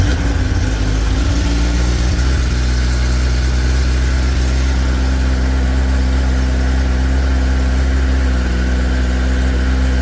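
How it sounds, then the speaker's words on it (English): A Kawasaki Ninja ZX10R motorcycle fires up and settles into a loud, steady idle, its close, even engine hum droning on without a break. "So the bike turns on, and let's start it."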